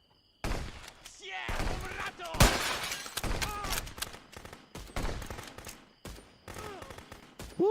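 Upgraded allied troops in a video game lay down heavy gunfire, with bursts of shots, cracks and crashes stacked densely over several seconds while someone talks over the chaos.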